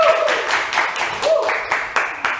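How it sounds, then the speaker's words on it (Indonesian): Audience applause at a discussion event, clapping that rises and falls in short bursts across a couple of seconds, with a voice briefly audible. "Oke, tepuk tangan dulu dong teman-teman."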